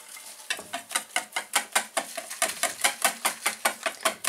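A spoon stirs batter for a chicken pie just after baking powder goes in, giving a brisk, steady run of close scraping strokes, about four per second, with no talk.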